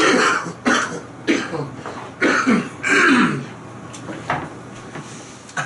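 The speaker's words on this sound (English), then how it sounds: "but I do have to cough" A run of about six harsh, raspy coughs, close to the listener and irregularly spaced, with brief gaps between them and no talking.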